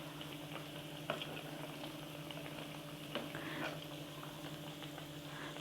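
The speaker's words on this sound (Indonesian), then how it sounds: "kita goreng sampai matang, warnanya hingga kuning kecoklatan" Vegetable fritters (bakwan sayur) frying in hot oil, a steady close sizzle with a low hum underneath and a few sharp crackles and pops at irregular moments throughout.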